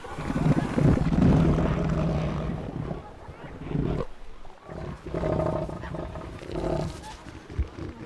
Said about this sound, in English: His roars warn other males to keep away from his property.